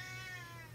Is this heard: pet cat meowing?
yes